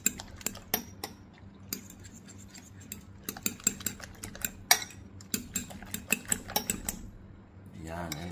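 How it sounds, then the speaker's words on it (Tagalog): A utensil stirs seasoned eggs, with pepper and salt, in a bowl for scrambled eggs, giving quick uneven clinks and taps against the bowl at close range, with faint background noise and a brief scraping swirl at the end. "Tapos muli natin yang hahaluin"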